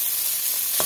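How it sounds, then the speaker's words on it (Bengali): Chopped onion and crushed garlic fry in a pan with a steady, close sizzle, broken by a brief scrape of stirring near the end. "পেঁয়াজ রসুনটা ভাজা হয়ে গেছে"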